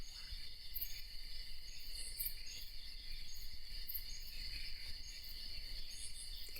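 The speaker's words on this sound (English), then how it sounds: "Hear the frogs tonight, don't they sound fantastic?" A dense nighttime chorus of frogs at Sunbird Hill on the edge of Kibale Forest, Uganda, forms a continuous high-pitched trilling drone with faint pulsing calls above it, steady and unbroken throughout.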